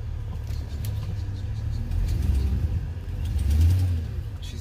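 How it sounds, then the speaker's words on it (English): A car engine with an exhaust leak idles and then revs up twice, giving a low, rough rumble that swells and eases up close, with no talking. "She's got an exhaust leak."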